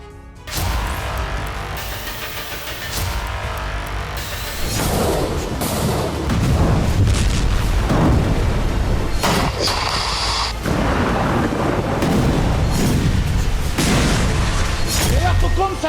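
Heavy bombing explosions in Gaza rumble and thud repeatedly in a dense, loud barrage of booms and blasts, with a voice talking over the sustained din.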